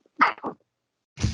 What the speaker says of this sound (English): Hell of sneeze.